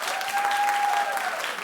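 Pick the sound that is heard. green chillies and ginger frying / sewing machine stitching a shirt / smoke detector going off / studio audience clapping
studio audience clapping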